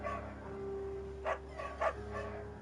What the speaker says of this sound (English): What a cute bark.